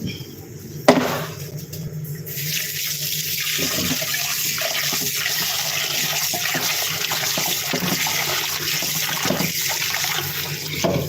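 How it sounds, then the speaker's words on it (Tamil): Raw chicken rinsed in a kitchen sink under a running tap, a steady close gush of water with splashing after a brief clunk at the start. "சிக்கனை வந்து கழுவ போகிறேன்"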